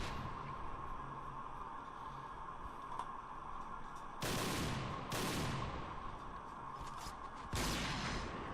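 Gunfire in a sniper-mode online shooter match, three sharp shots ringing out with decaying tails over a steady game hum, fairly distinct but not overpowering.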